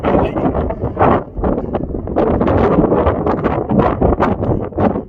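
Strong wind buffets a microphone on a hillside in the Sidlaw Hills of Scotland, loud gusty roaring that rises and falls in uneven surges with no voice audible.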